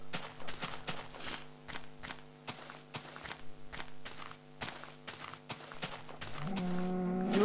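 Blocky Minecraft Pocket Edition cows give a few moos amid repeated crunchy footstep clicks, with a steady tonal music bed underneath and a rising note at the end.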